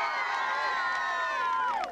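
Crowd cheering and whooping for Turloughmore, Galway hurling champions, at a club celebration in Athenry; a dense, sustained roar of many voices fills the whole stretch at steady loudness, dipping only at the very end.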